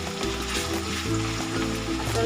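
Ginger garlic paste stirred into onions frying in a pan for chicken kishmish curry gives a loud, steady sizzle with soft scraping and clinks from the stirring, close up and with no talk.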